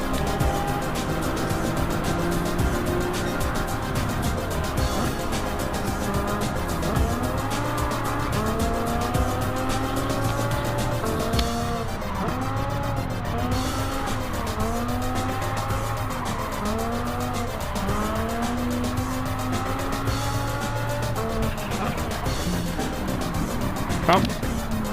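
Race cars roar through a racing video game, a Cobra among them, with engine notes rising and falling in overlapping sweeps and repeated tire squeals, while a voice talks over the action throughout.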